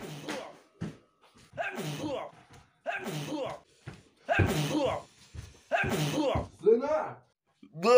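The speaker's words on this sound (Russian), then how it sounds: "Как он чихает." A man sneezes repeatedly, about six close, loud bursts spaced by short pauses, with a brief voice near the end.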